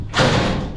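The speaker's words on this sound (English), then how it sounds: "All I can hear is the doors banging because it's so windy." A single heavy thud of a vehicle door banging shut in strong wind, a short loud impact with a brief rattling tail.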